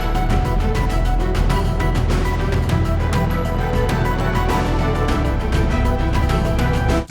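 Dense orchestral mix of arpeggiated synth lines, looping hi-hats and brass horns, playing steadily and loud throughout with no voices.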